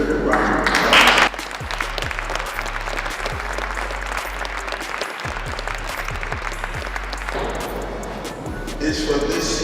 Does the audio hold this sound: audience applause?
yes